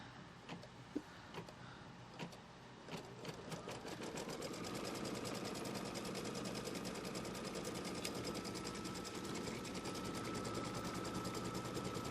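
A home embroidery machine runs a tack-down line on a quilt block, giving a steady, close, rapid mechanical stitching patter that continues without pause after a few light clicks at the start.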